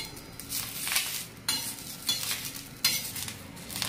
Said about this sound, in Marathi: मिरच्याला चांगलं आपल्याला असं डाग पडेपर्यंत मस्त भाजून घ्यायचं एकदम